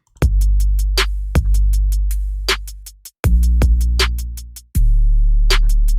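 Deep booming 808 kick bass notes hit in a programmed pattern, each with a long sustained low tail, accompanied by crisp clicking hi-hat-like ticks.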